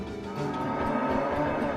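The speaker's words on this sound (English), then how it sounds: "Cow in the way." A cow moos in a long, drawn-out lowing call near the tracks in Alaska in the Tiny Rails train game, heard clearly and alone with no speech.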